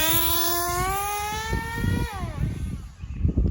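A nitro RC car engine running lean screams at high pitch, then its revs climb and abruptly break off as it flames out, leaving rough sputtering and outdoor noise; close and loud.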